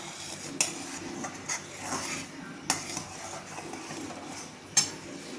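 A metal spoon stirs grated almonds and cardamom powder into milk for basundi, giving faint scraping and swirling with a few sharp clinks against the pot, quiet and close.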